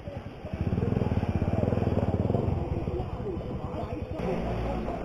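A video game motorcycle engine idles with a fast, throbbing putter that rises briefly and then settles, loud and close.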